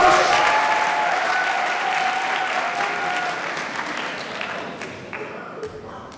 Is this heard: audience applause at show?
yes